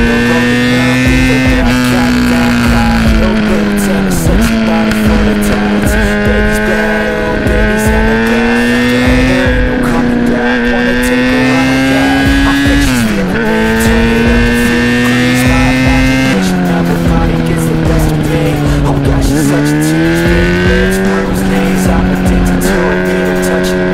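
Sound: car driving fast on mountain road, warming up tyres

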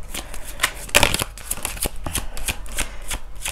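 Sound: shuffling tarot cards

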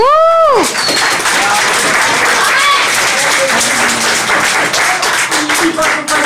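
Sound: applause

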